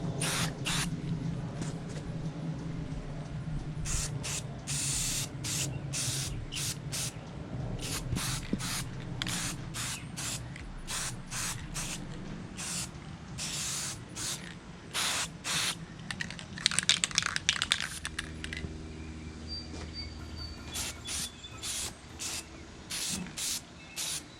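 A spray paint can hisses in repeated close bursts of varied length, coating the handlebars of a Coleman 200U-EX mini bike, with short quiet gaps between sprays and a longer continuous spray near the end.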